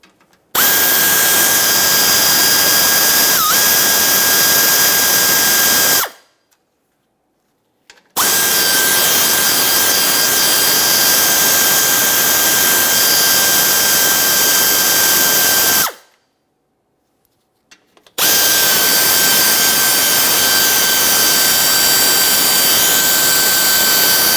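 Power tool spinning out 7mm bumper cover mounting bolts on a GMC Acadia, three loud sustained high whines, each run lasting several seconds and separated by short silent pauses.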